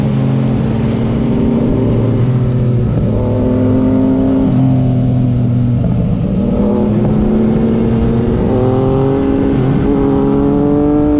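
A Yamaha MT-09 motorcycle rides off on a road, its engine loud and close, rising in pitch through several gear changes with clear shifts between each pull.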